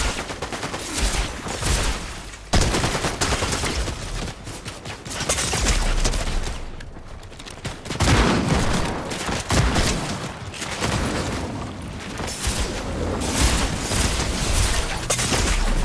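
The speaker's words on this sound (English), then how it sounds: "They're shooting at us" Sustained loud gunfire in the Fortnite video game, dense volleys and rapid bursts filling the whole stretch with brief lulls between barrages, and no voices over it.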